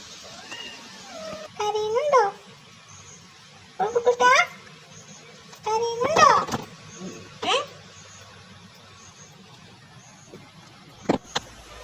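A black cat meows several times, with four or five distinct drawn-out, wavering cries spaced a second or two apart, close and fairly loud over a quiet background, followed by a brief sharp click near the end.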